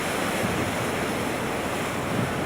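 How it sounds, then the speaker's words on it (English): Sea waves crash over rocks on a windy coast, a steady broadband roar of surf and wind noise that fills the whole stretch without pause or voices. "And the sea crashes over, the wind blows it off the top."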